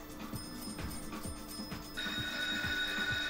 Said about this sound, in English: It's ringing, that's a big win.